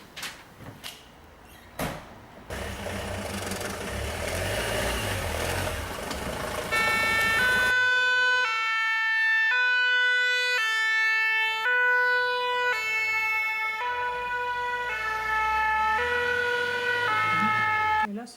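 Fire engine siren sounding as the vehicle departs, a loud two-tone wail cycling steadily for several seconds after some brief shuffling and door-like knocks, with no voices.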